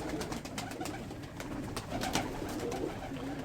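Pigeons coo softly and continuously, a low, rolling murmur from several birds with occasional faint clicks and shuffles. No one speaks over the cooing.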